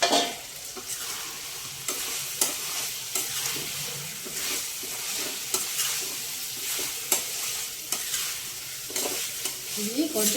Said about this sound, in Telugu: ఈ మటన్ కొంచెం వేగాలండి.